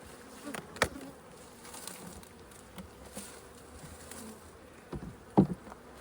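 Honey bees hum steadily around an open hive during a colony inspection of a split holding queen cells, a soft continuous buzz close by, broken by two sharp knocks near the start and end, with no voices.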